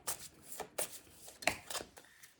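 Tarot cards shuffled by hand in a series of quick, crisp riffling bursts, about six short flurries spaced roughly a half second apart, close and fairly quiet, with no talk.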